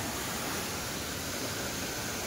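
Steady, dense roar of falling water from the Dokrichanchara Waterfall in Kalahandi District, a continuous wash heard alone without any talk.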